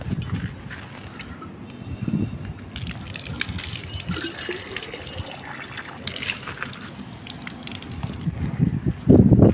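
Water poured from a bottle into bird drinking bowls, a steady outdoor gushing and trickling pour that swells and tapers, with no talk over it.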